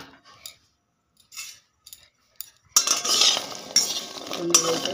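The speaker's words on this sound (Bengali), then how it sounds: "এই কাঁঠাল বিচিগুলো আমি ভালো করে ভেজে নেব।" Jackfruit seeds frying in hot oil in a pan and being stirred; after a few quiet scrapes and clinks, a loud steady sizzle starts with repeated metallic stirring scrapes, close and without talk.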